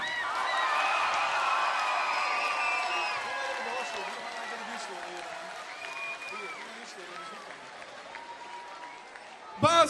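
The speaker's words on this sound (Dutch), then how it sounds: "Een geweldig applaus voor de nummers 2 en 3." An audience applauds at a 2014 Limburg carnival song festival. Steady, sustained clapping with some scattered cheers fades slowly over about ten seconds, then a sharp clatter comes at the end.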